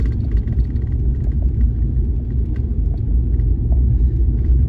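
A truck driving through a city rumbles steadily over bumpy ground, with a continuous low, close engine and road drone and faint rattles and knocks as it jolts along.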